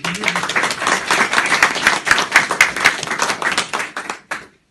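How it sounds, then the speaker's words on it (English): Audience applause at a PTSD veterans charity talk: a modest crowd clapping close by in distinct, uneven hand claps that hold steady, then thin out and stop just before the end. "Applause for me"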